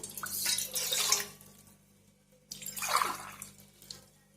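Water is poured from a glass into a rice cooker bowl in two separate splashing pours, each splashing for about a second and a half, close by, with a brief quiet gap between them.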